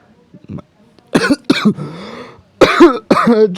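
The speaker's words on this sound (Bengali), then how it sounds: "ডাবিং দিতে গিয়ে কাশি আসছে" A person coughs several times in short harsh bursts, close to the microphone, with brief throat-clearing sounds between them.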